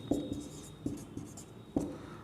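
Chalk or marker strokes on a board in a Hindi class 10 polynomials lesson, a few distinct tapping, scratching strokes in an uneven rhythm, close and fairly quiet with no talking.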